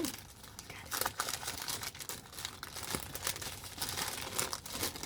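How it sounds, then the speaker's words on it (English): Paper crinkling and rustling close up as a sticker is carefully peeled off a Maniology Box of Merry 2025 package, with soft, continuous crackles throughout. "I don't want to rip the pretty sticker."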